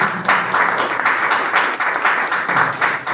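Loud, steady applause from an audience at a MST team Mega Sangamam gathering in Gudalur, continuous clapping filling the whole moment with no speech over it.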